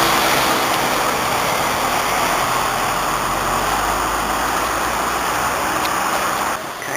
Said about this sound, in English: Take a chance with the traffic on the zebra crossings